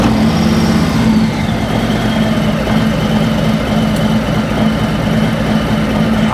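A Harley Davidson motorcycle idles loudly and close through its stock slip-on exhaust, a steady, deep, lumpy rumble with an uneven pulsing beat that holds without a break throughout.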